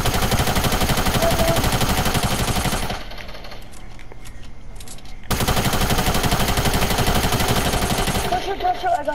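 Rapid, loud gunfire from a Fortnite match rattles in dense continuous bursts, drops away briefly in the middle, then resumes just as heavy.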